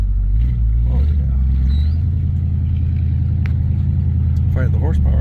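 Deep, steady rumble of a 1971 Dodge Polara's engine running as the car drives, loud and close with a strong low drone throughout, and a voice speaking briefly over it.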